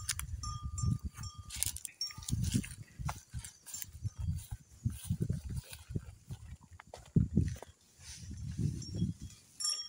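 Cattle moving about outdoors make irregular low thuds and shuffling hoof-like sounds in uneven bursts, moderately close, with faint rustling and a thin high tone in the background.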